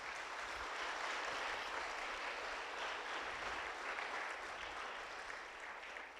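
A church congregation at an Easter Sunday service applauds, a broad, sustained wash of many hands clapping throughout, steady and even, with no voice on top.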